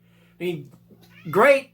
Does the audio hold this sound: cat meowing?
yes